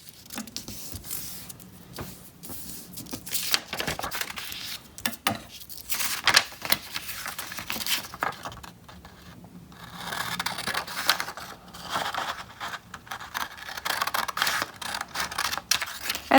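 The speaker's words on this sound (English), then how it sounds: "So firstly, we'll fold it in half to cut it." A sheet of paper, about 7 by 14, is folded in half and cut for an origami pencil bookmark, giving near, irregular crinkles, creasing scrapes and sharp snips that run steadily throughout with no talking.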